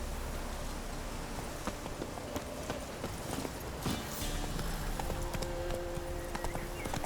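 Roach, Geralt's horse in The Witcher 3 video game, gallops in a steady rhythmic clip-clop of hooves, continuous and fairly close under an ambient game soundscape, with no talking.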